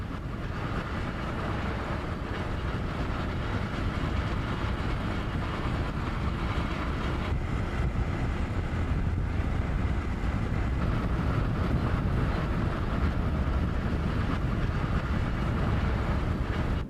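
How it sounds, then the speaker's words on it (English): The Southern Pacific 4449 Daylight, a 4-8-4 steam locomotive, runs along the Shasta route in 1991. Its train gives a loud, steady rolling rumble with faint rail clatter throughout. "the Southern Pacific Daylight was back underway as it raced towards Sacramento"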